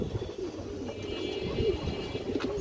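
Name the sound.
pigeons cooing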